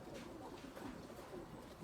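A male pigeon coos softly in a loft, a low murmuring call repeated over steady faint background noise.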